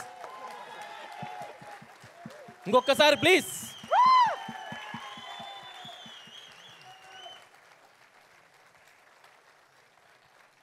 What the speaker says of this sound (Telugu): నా తరఫున వీళ్ళకి అందరికి ఒక్కసారి థ్యాంక్స్ చప్పట్లు కొట్టండి ప్లీజ్